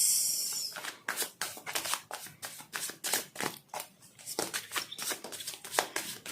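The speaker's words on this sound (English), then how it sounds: "we will shuffle these cards 3 times" A deck of cards being shuffled close by, a rapid run of crisp riffling bursts repeated steadily for several seconds with no talking.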